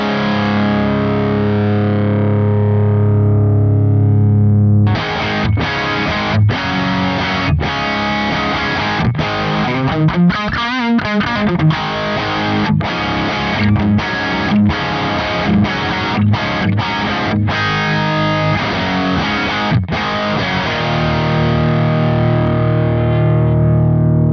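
A heavily distorted electric guitar through a Wangs 2204HW JCM 800 profile plays a loud 80s-style riff, with sustained chords, choppy staccato stabs and ringing held notes at either end, and no talk.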